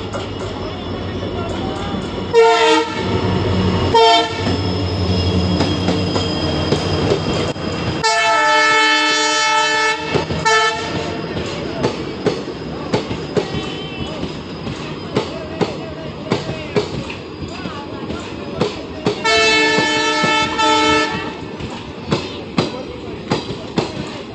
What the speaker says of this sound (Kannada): ಅಲ್ಲಿ ಟ್ರೈನ್ ಬರ್ತಿದೆ,